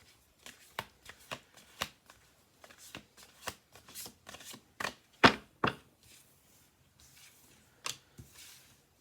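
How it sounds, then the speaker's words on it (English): Repeated crisp riffling and flapping of an oracle card deck being shuffled, close and fairly loud, in irregular bursts with short pauses between. "Let's do one more shuffle through."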